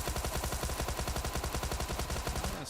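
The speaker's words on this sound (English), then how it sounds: "Suppressive fire." Sustained rapid Tommy gun fire in PUBG Mobile, a dense unbroken rattle of near, loud shots running the full length with no talk over it.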